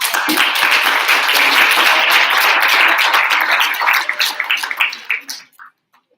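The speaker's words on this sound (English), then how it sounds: "I just want to give a round of applause to our newly elected student senate administration" A room of students at a general body meeting applauds a newly elected student senate, dense clapping at first that thins into scattered claps and fades out near the end.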